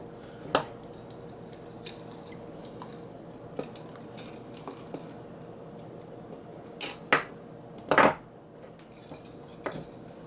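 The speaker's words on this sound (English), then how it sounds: "we're just going to cut off that much wire" Craft wire is snipped for a napkin ring, a few sharp metallic clicks and cuts scattered over quiet handling noise, close by, with a louder double snip near the end.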